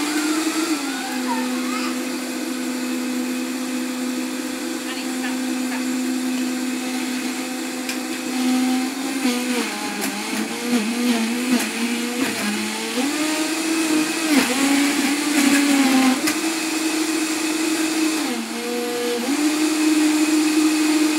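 A kitchen blender runs continuously for the whole stretch while blending a green smoothie, its steady motor whine dipping and rising as the load shifts, close and loud with no talk over it.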